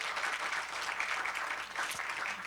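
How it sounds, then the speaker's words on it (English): Audience in a city council chamber gives a round of applause for student leaders, a soft, even patter of clapping heard from a distance with no clear voices. "another round of applause for these amazing leaders"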